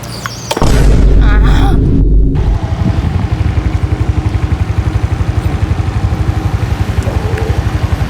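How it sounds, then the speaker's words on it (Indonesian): A motorcycle starts with a loud boom and then idles in a rapid, steady putter close by. "Aku mau mengendarai motor."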